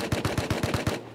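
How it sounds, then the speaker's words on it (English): Eight evenly spaced rapid gunshots in Rust ring out in a quick automatic burst, close and punchy, with no talking. "just shooting the sky here"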